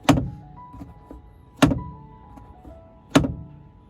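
Three sharp plastic snaps as a Volkswagen Polo 6R grab handle lacking its damper springs back and hits the headliner, evenly spaced about a second and a half apart, with faint cabin hum.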